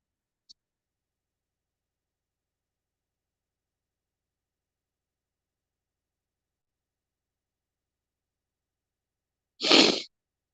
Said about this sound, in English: Perfect time for me to sneeze again.